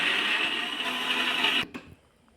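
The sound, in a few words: mixer grinder grinding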